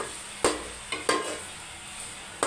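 Chicken and onions cooking on a low flame in a curry pan, a faint continuous sizzle broken by a few sharp spoon knocks against the metal.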